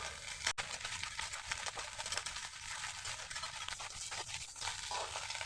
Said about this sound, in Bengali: সুন্দর করে নাড়িয়ে চাড়িয়ে মিশিয়ে নেব।